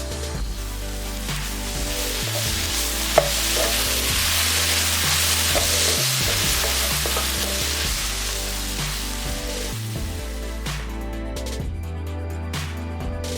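Fish cake stir-fried with chopped green chili and sesame seeds, a constant loud sizzle over a steady low droning background, with a faint tap or two of stirring.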